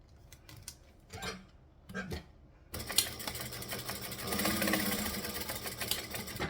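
A few soft handling taps come first, then a sewing machine starts up and stitches a pattern piece in a steady, close, continuous whirring run through to the end.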